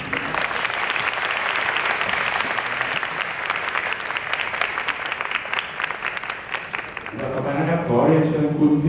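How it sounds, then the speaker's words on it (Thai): Audience applause at a Thai company introduction event, a dense steady clapping that fills the room for the full stretch, loud and sustained, with a voice speaking over it near the end. "ขอเสียงปรบมือให้ด้วยครับ"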